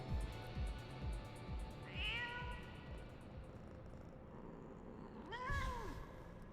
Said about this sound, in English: What is going on with this cat?